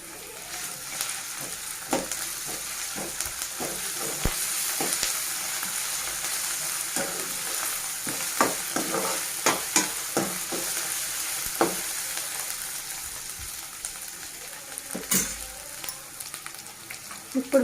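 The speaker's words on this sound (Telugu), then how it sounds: "ఇప్పుడు మనం 1 టేబుల్ స్పూన్ అల్లం వెల్లుల్లి పేస్ట్ యాడ్ చేసుకుందాం." Ginger garlic paste frying in a pan with steady sizzling and repeated scraping stirs of a spoon, close and continuous throughout.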